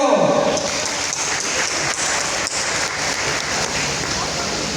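Steady audience applause fills an award ceremony hall, a dense continuous clatter of many hands clapping at constant loudness throughout.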